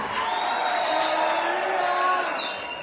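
An audience at a gathering of the Wasafwa claps and cheers loudly and continuously, a dense wash of applause with whoops, fading slightly at the end.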